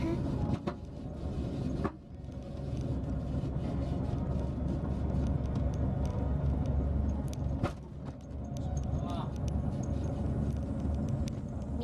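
Steady in-car road noise from a lowered car driving along Route 53 at night toward the Tottori coast, a constant low rumble with a few brief knocks and rattles from the rough road.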